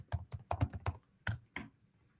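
Keys on a computer keyboard are typed in short bursts of close, crisp clicks, a quick run of strokes and then a few final taps, with no talking.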